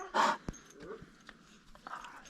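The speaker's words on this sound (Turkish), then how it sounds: "Güzel köpek, güzel köpek. Daha büyür." A young dog gives a short whimper and some soft panting breaths nearby, with faint clicks and movement between them.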